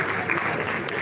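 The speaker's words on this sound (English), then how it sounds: "Please, more round of applause." An audience at a live event with a poetry segment claps in a short, dense burst of applause that stays even and fairly loud from start to finish.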